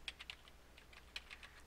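Computer keyboard keys tapped in a quick, uneven burst of distinct clicks, close and fairly quiet, with no voices.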